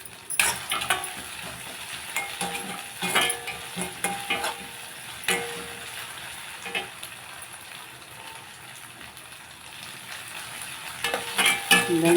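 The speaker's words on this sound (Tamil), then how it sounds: "வெங்காயம் கொஞ்சம் இஞ்சி பூண்டெல்லாம் நல்லா வதங்கிடுச்சு." Onion, ginger and garlic sauté in a pan for a cabbage kalan, with a constant close sizzle and frequent scraping stir strokes in uneven bursts throughout, no talk.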